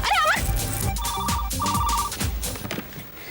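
A telephone rings in a Hindi TV drama scene, two bursts of an electronic ring, clear and near against background music.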